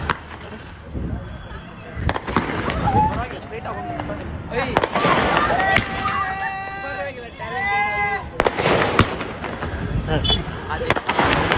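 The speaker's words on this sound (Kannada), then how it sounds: "ಕೆಳಗೆ ಪಟಾಕಿ ಎಂಜಾಯ್ ಮಾಡ್ತಿದ್ದಾರೆ." Firecrackers thrown down from the Ragigudda–Silk Board flyover onto people below go off in several sharp, loud bangs, mixed with shrill squealing tones and a busy crowd murmur.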